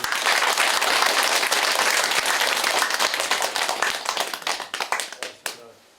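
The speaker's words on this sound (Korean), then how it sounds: "힘찬 박수를 보내주시기 바랍니다" Villagers give a vigorous round of applause at a village meeting in Hongseong County, loud dense clapping that thins into scattered individual claps and fades out.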